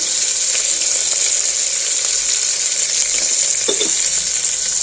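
Fenugreek rice ingredients fry in a pan with a constant bright sizzle close up, broken only by a faint stir or scrape.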